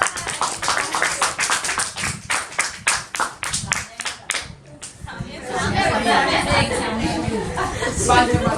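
A group of people, girls on a cricket tour, clap hands in a fast, loud, evenly timed rhythm for about four seconds, then break into lively overlapping chatter and laughter.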